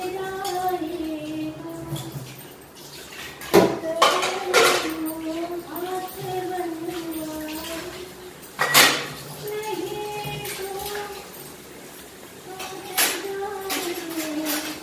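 Dishes and utensils being washed by hand at a home kitchen sink, with clinks and clatters of metal pots and cutlery at intervals over running water, close by, while someone talks throughout.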